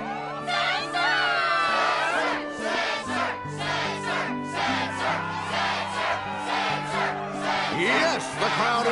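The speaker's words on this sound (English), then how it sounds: "Yes, the crowd is fired up," A large crowd roars and cheers continuously in the Kingdom Hearts 2 video game, loud and sustained, with layered shouting voices and music-like tones underneath.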